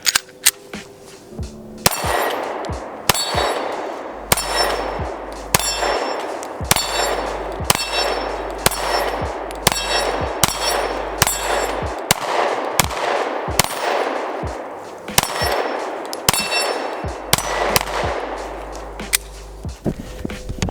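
A Zev Technologies OZ9c-X pistol fires a long string of shots at a TA Targets steel hostage swinger. Sharp reports come in quick pairs and singles across the clip, each followed by a ringing metallic clang from the steel.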